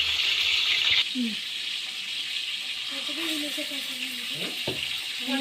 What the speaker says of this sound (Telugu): ఇలా పీస్ వేసుకుంటూ అవి ఉల్టా వేసుకొని కాల్చుకుందాం.